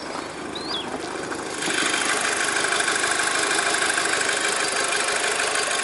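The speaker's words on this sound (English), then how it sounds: "how quiet and smooth that engine is" A car engine idles steadily and smoothly, a constant even hum that steps up slightly in level after the first couple of seconds, with no other sounds.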